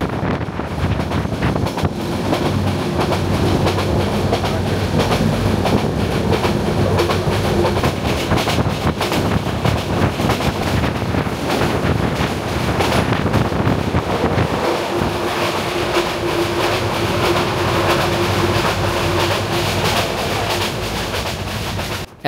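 A passenger train on the Cox's Bazar to Dhaka line runs past Sitakunda, a loud, continuous close rumble of wheels and carriages mixed with heavy rushing wind for over twenty seconds, with no talking.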